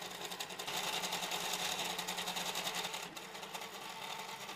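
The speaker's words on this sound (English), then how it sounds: "The mechanics of the cheap printer in combination with the handmade extruder leads to a very high background noise from time to time." A cheap 3D printer fitted with a handmade pellet extruder runs steadily, giving a loud, continuous mechanical whir with fast rhythmic chatter, close by and with no voices.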